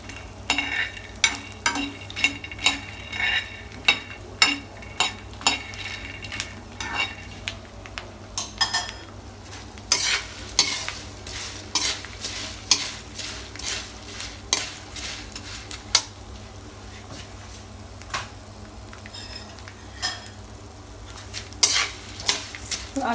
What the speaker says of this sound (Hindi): अप्रॉक्सीमेटली 2 मिनट और इसको करेंगे एंड इधर हमारे मखाने जो हैं वो भी क्रंची होने